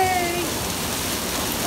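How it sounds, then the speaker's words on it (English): Heavy rain pours steadily in New Orleans outside a hotel, a dense, loud, continuous hiss of downpour striking surfaces close by, unbroken throughout with no talk. "I'm here to show you just how hard it does actually rain in New Orleans"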